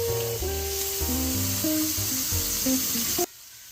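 A steak sears with butter in a very hot pan, giving a steady broadband sizzle under stepping background music until both cut off abruptly near the end.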